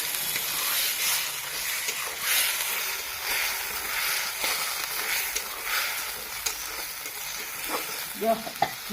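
Curry for a grandmother's majali ghonto being stirred in a pan after water is added: steady close scraping and soft sizzling with a few sharper clinks near the end, no talk.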